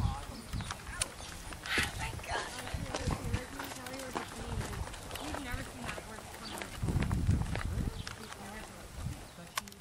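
A slow horse at a riding camp walks with uneven clip-clopping hooves, close by and mixed with shuffling, while people talk over it.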